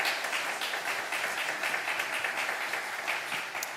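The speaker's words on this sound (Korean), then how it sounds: "하나님께 감사와 영광의 박수를 올려드려도 좋을 것 같습니다" Congregation applauding in a church, a steady, dense wash of many hands clapping together that holds evenly throughout without any voices.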